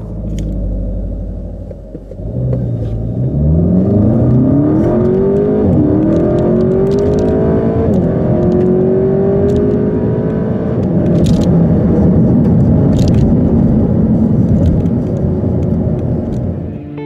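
A 2015 Seat Leon Cupra 280 engine revs hard through a 0-100 acceleration run, loud and close, with rising pitch sweeps marking each upshift and a steady roaring drone between them; no talking.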